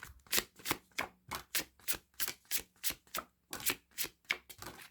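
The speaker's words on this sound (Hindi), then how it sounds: "मैं कार्ड को शफल कर रही हूँ" Tarot cards being shuffled in a quick series of crisp riffling bursts, about a dozen evenly spaced flutters that sound close and fairly quiet, with no voice over them.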